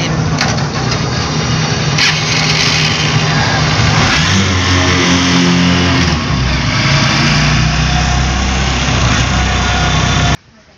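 Engine of a motorized tricycle running loud and close, a continuous rough drone with shifting revs and rising pitch in the middle, cutting off at the end.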